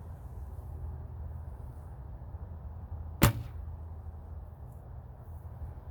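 A single sharp thunk of an arrow striking a target rings out once, loud and sudden against a quiet outdoor hush on a cold day.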